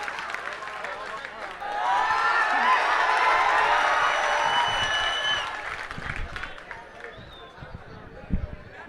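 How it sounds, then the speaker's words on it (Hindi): At an All India Mushaira poetry gathering in Dhaka, a crowd bursts into loud applause mixed with cheers, swelling and then fading out as voices and stray claps remain. "ज़ोरदार तालियों से इस्तकबाल"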